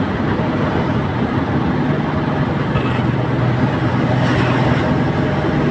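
A vehicle drives a forested hill road, its engine and tyre noise forming a loud, steady rumble close by throughout, with no voices.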